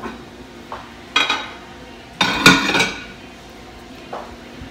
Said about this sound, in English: putting up dishes